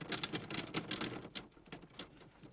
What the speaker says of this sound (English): I'm a touch typist, and I'm very fast.